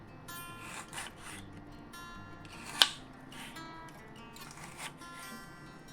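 A knife slices through snake gourd for cooking, making soft repeated rasping cuts close by with one sharper knock partway through, all fairly quiet.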